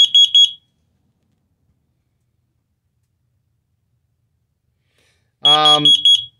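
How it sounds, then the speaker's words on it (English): A carbon monoxide detector in an ice fishing shack sounds its test alarm: a short burst of shrill, piercing beeps at the start, then silence, then another loud cluster of beeps near the end. "Carbon monoxide detector."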